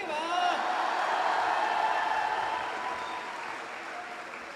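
Steady, dense applause from an audience at a Hindi comedic poetry performance, a broad wash of many hands clapping with a little chatter, holding strong and then fading slowly toward the end.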